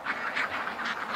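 Ducks being fed zucchini at a homestead, a run of nasal quacks and honks repeating in quick uneven succession, moderately close and without talk.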